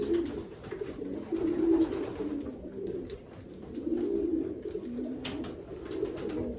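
Soft, low cooing of racing pigeons repeats in waves throughout, with faint background rustling and no talking.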